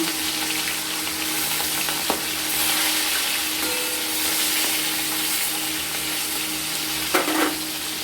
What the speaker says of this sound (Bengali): এবার ওই তেলে আমরা মাছগুলো ভেজে নেব